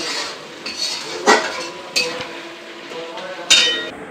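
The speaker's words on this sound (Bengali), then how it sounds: "এরপর মশলাটা একটু ভাজা ভাজা করে নিচ্ছে" Spice masala fries in a pan for fish curry while a spoon stirs it, giving several sharp metallic clinks and scrapes against the pan over a low frying hiss.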